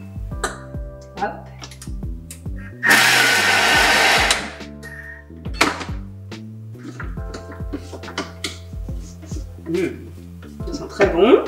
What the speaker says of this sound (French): On va mixer un petit peu.